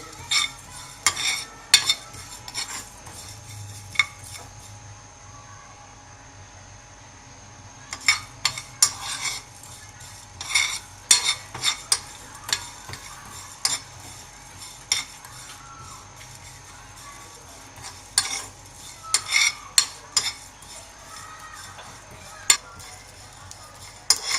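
Chaat masala spices dry-roasting in a pan, a soft low sizzle under repeated scraping and clinking stirs from a metal spoon, coming in irregular bursts with quieter pauses between.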